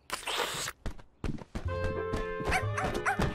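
A small cartoon dog gives a few quick yapping barks amid light footsteps and playful animated sound effects, with a tonal musical background underneath.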